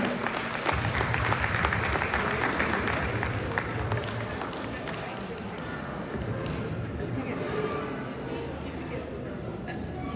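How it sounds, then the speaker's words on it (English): Sustained applause from an audience welcoming a guest speaker onto a stage, broad steady clapping that is strongest at first and then settles into a softer, even patter, with faint murmuring underneath. "Give her a big round of applause."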